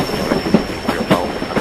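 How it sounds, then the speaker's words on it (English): A particularly long train rumbles past close by with rhythmic clacking of wheels and a faint high whine, steady and continuous. "Just this train is particularly long."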